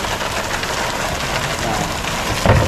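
Heavy rain pours down during a flood beside a swollen, fast-flowing river, a dense steady hiss with a brief louder splash near the end.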